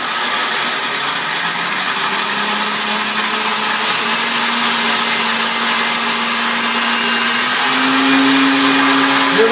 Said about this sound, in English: Turn the blender on.